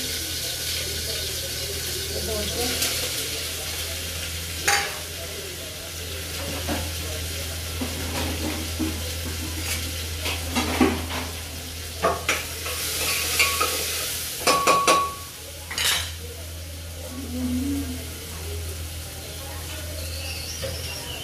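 Curry leaves and a pinch of turmeric sizzle in hot oil in a home kitchen, a steady frying hiss broken by sharp clinks and scrapes of stirring, with a faint voice in the background.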